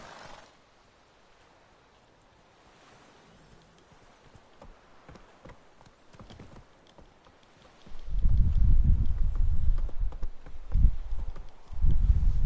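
Roach the horse trotting in The Witcher 3, a steady patter of hoof clops that starts faint and then grows loud and dense against a rumbling low backdrop.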